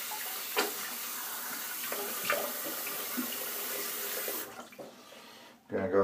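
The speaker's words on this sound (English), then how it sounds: "Let's wet the face and get a shaving." Tap water runs steadily into a sink to wet the face before shaving, a close continuous splashing stream that cuts off near the end, followed by a brief bump.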